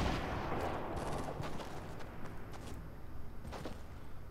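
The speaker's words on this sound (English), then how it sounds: "where are these shots coming from" Gunshots from a Fortnite Mobile match, a steady mix of distant and mid-range shots and bursts in a busy, noisy battle soundscape, with no one talking over it.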